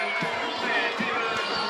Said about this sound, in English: So you can hear behind us, the San Dimas crowd's going crazy.